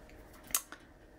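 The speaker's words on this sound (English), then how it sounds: "I have the rest of my packaging that I'm also going to trim down." Scissors make a single crisp snip and then a softer second cut while trimming packaging, close and brief against a quiet background.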